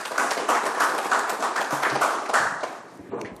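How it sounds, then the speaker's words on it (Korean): Congratulatory applause fills a council meeting room in Ulsan: steady, sustained clapping from a group, close and full, fading out near the end. "다시 한번 축하 박수 부탁드립니다"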